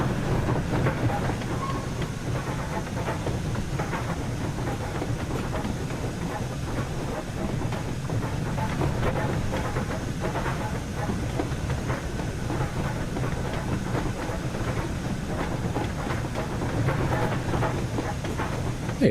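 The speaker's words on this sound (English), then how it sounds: "It's not a steam engine without clanking." Steam locomotive in the Just Trains West Coast Main Line (Preston–Carlisle) train simulator, a steady rumbling run with continuous rhythmic clanking and hiss throughout, loud and close.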